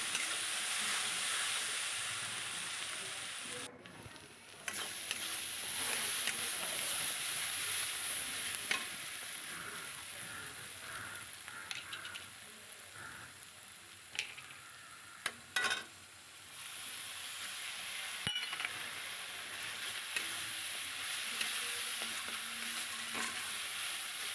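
Ground spices, ginger paste and onion paste frying in a pan while being stirred, a constant close sizzle with scattered spatula scrapes and clinks and one brief dip midway, no voices.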